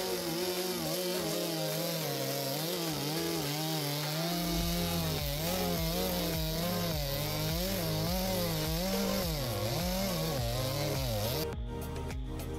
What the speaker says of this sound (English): he's cutting up some firewood for winter, the big pile of wood that we had a little while ago.